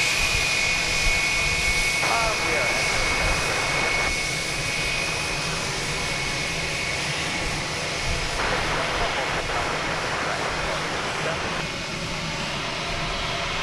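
An American Airlines jet on flight 2759 to San Antonio, at DFW Airport, gives a steady broadband engine roar that holds at the same level throughout, with no voice heard.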